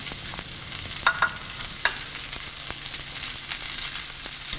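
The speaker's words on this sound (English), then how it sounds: "Add the half-cooked bacon to this and mix well." Half-cooked bacon and soft sweet potatoes sizzle steadily in a skillet, a dense constant crackle broken by the scrape and clatter of a spoon stirring them together close up.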